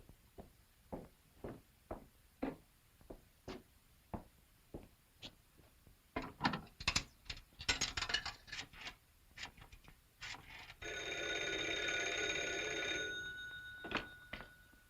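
A rotary telephone is dialed with a series of clicks and rattles, followed by a brief ringing buzz near the end, close and fairly quiet.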